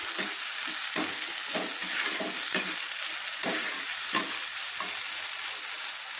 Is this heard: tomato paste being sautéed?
yes